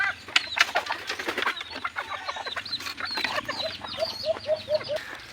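A captured red junglefowl clucks close by, with sharp calls at first and then a run of short, regular clucks, along with a brief flutter of wings.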